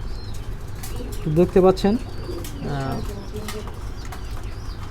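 A pair of black German shield pigeons cooing softly in a cage, with low throaty coos and a brief rustle under someone talking nearby.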